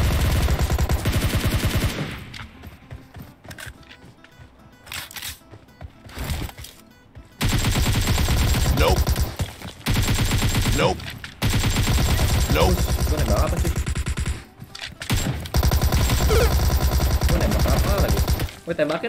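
Long loud bursts of rapid automatic gunfire in PUBG Mobile, close and sustained, broken by short quiet gaps and resuming several times, with players talking over it.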